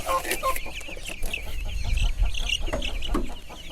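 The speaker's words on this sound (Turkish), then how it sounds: "Hepsi tavuk bunlar ne?" Hens cluck steadily, several birds close by, a continuous chatter of short clucks over a low rumble of background noise.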